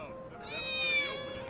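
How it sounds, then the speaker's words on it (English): A cat meows in Final Fantasy VII Remake, a single drawn-out, rising meow heard close and clear over a soft game background, with a voice speaking alongside. "I hear cat."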